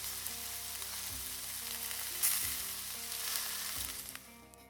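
Goose meat sizzles steadily in a pan over an open fire outdoors, a close, continuous crackling fry with a few light scrapes and no talking.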